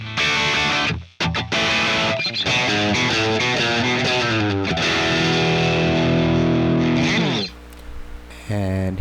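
Heavily distorted electric guitar in a tone from a Hotone Ampero II Stomp, reverb off, plays chugging chords and riffs, dry and upfront, with a short gap early on and a brief choppy ending.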